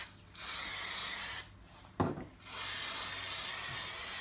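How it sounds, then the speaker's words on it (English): Spray paint hisses in long steady bursts from an aerosol can onto a handmade Harry Potter wand held by masking tape, with short pauses between sprays and a brief knock in the middle. "You see, spray paint goes everywhere."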